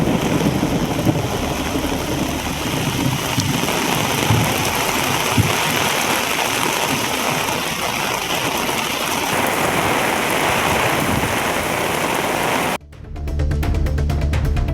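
Heavy rain pours down steadily with gusting wind, forming a dense, loud roar. No thunder stands out, and near the end the sound cuts abruptly to a different scene.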